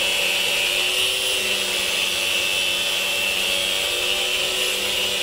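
Grinder running continuously, a loud, steady high-pitched whine with a constant mechanical drone underneath, close by and unchanging throughout with no talk.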